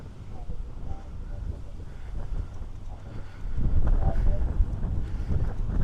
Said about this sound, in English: it's so windy, I could literally potentially wear earplugs just to like, all I hear is whoosh, whoosh, whoosh in my ear holes